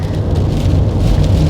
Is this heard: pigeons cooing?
no